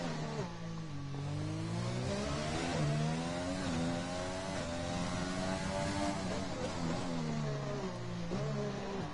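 A race car engine in a sim racing game, driven at the Azerbaijan street circuit, wails steadily at high revs, its pitch climbing and dropping through quick short shifts, loud and continuous with no talk.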